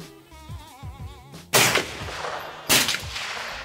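Two loud gunshots from a Big Horn 500 Auto Max topped with a SIG Romeo 4S sight, fired at a range; each sharp blast rings out after a stretch of musical, warbling background sound.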